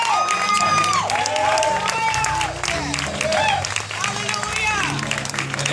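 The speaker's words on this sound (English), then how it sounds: "everybody in the room, I feel like, should be clapping their hands" Church congregation clapping and cheering for the pastor during a lively service, steady loud applause with shouts, mixed with speech and organ-like tones.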